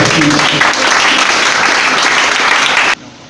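A church congregation applauding loudly and steadily, a dense sustained wash of many hands clapping that cuts off abruptly near the end.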